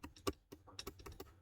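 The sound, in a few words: typing code on a computer keyboard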